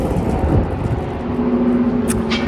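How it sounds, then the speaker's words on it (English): A continuous roar of road traffic on a bridge close by, engines droning and rumbling without a break, with a faint hum rising partway through. "It's going to be louder here because of the trafficy bridge right behind me."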